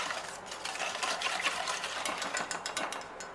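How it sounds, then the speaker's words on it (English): Cream being whisked into a lemon curd mixture for a tart, giving a steady, busy scratching and clinking of whisk against bowl, close and continuous with no talk. "And then we want to add 1 cup of thickened cream,"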